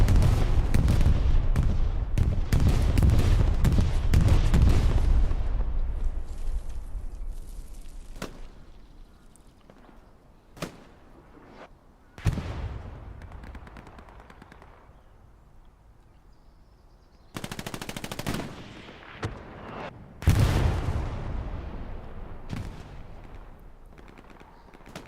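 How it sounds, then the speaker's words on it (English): A bombing run hits a multiplayer war video game on a console server. Heavy rolling explosions and rapid gunfire start at full loudness, then fade, and sharp isolated shots and later blasts break through. No one speaks. "Bombing run called in."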